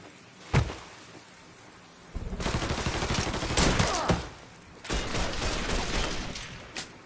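Gunfire in the video game Mafia 3 opens with a single sharp shot, then two sustained loud bursts of rapid firing over a rain-like background hiss.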